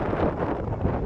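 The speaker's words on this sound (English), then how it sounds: "It's windy as heck out here today." Strong prairie wind roars and buffets the microphone in a continuous gusty rush. The wind blows past an old wooden grain elevator, and no one speaks.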